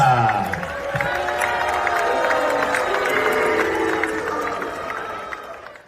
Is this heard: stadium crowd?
yes